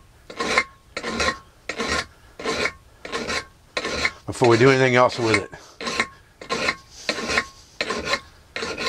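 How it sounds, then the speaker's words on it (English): A metal file rasps in quick regular strokes, about a dozen in all, as it shapes a steel flintlock vent pick to a long point, with a brief voice speaking between strokes. "we're just going to file this thing down to a good long point that we're looking for here"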